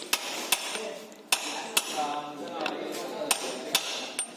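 Workshop hammer strikes on a bearing puller fitted to an engine casing to knock out a bush: roughly nine crisp metallic taps at irregular intervals, close by, over a continuous low hum, with no voices.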